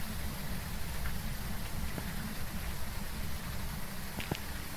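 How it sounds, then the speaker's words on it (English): Steady rain hisses in a dense, even wash with no voices, broken by a few faint taps and clicks toward the end. "The rain's so loud."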